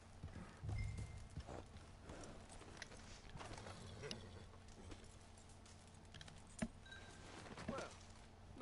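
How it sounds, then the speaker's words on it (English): A horse in the Red Dead Online video game clip-clops at a steady walking rhythm, soft and fairly quiet, with an occasional snort breaking through the hooves. "Shut up, horse, you prick."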